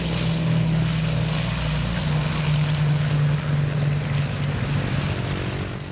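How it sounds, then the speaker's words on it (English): A C-123 aircraft takes off with a loud, steady engine and propeller roar and a low droning hum that fills the whole stretch, fading slightly at the end, with no voices. "This is the sound of a C-123 taking off."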